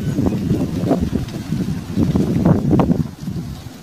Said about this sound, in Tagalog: Mahangin na oh, mahangin na.